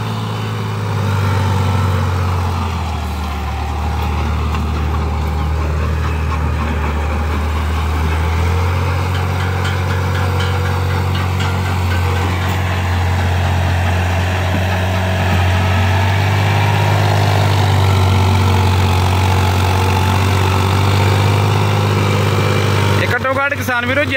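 A 10-12 year old tractor engine driving an 8-foot super seeder runs loud and steady for a long stretch, a deep throbbing drone with a rough mechanical rattle over it.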